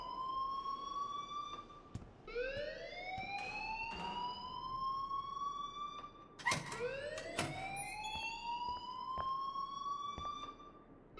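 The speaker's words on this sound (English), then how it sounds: "please turn off that alarm since that's your job" A siren-like alarm wails in the video game Life Is Strange, its rising swoops repeating about every two seconds, loud and steady, with no talking over it.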